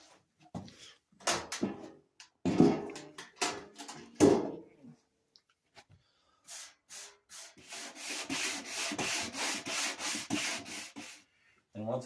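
Fine 320 grit sandpaper rubs across a wooden surface by hand, giving scattered short scrapes early on, then a sustained run of rhythmic back-and-forth strokes, close and fairly quiet.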